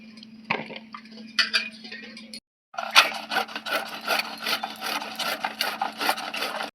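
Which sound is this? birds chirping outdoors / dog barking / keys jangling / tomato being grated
tomato being grated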